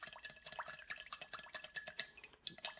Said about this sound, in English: Just mix this just a little bit,